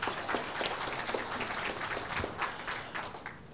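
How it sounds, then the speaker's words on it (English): A live studio audience applauds three doctors: a soft, fairly distant patter of clapping that holds steady for a few seconds, with a faint hint of voices underneath. "So can we give a round of applause to the three doctors?"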